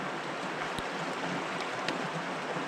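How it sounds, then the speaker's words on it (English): Rushing river water on the bank of the Ogilvie River fills the scene with a steady, close broadband hiss, marked by a couple of small clicks or knocks during water filtering. "Right here on the bank of the Ogilvie, and I am filtering water."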